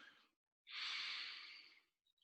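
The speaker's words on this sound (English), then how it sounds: "Breathing in." One deep, slow breath drawn in through the nose. It is close and airy, swells and fades over about a second, and is followed by faint clicks.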